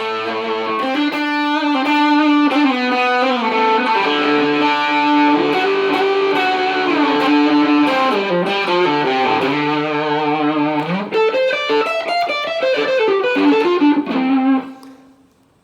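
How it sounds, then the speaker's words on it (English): A Telecaster electric guitar runs through an MI Audio Neo Fuzz pedal, playing a busy, heavily fuzzed lead line with bends for about fifteen seconds, loud and upfront, then quickly fading. "So I have the fuzz pedal, an MI Audio Neo Fuzz."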